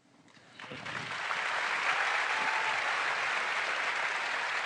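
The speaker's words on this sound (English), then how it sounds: "give them a round of applause" An audience breaks into applause at a veterans' storytelling performance, the clapping swelling within a second and then holding as a dense, steady wash.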